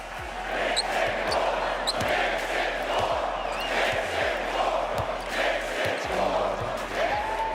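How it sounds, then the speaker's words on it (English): A basketball crowd at Madison Square Garden chanting in the final seconds of a Knicks playoff win, a loud, sustained rhythmic roar filling the arena. "Take a listen to the final seconds what the MSG crowd was chanting."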